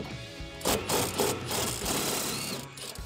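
An impact wrench spins a 15 mm shock nut off a 2005-2014 Mustang GT, a loud, close, rapid hammering buzz that runs for about two and a half seconds with slight surges before cutting off.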